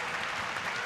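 A basketball crowd applauds during a FIBA Asia Cup quarter-final between Australia and Japan, producing a steady, even wash of clapping throughout with no clear breaks.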